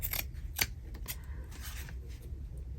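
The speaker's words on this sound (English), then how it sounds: "I'm going to trim off the excess." Scissors trim excess fabric from a small no-sew journal cover: a handful of crisp snips spaced irregularly across the moment, close up over a steady low room hum.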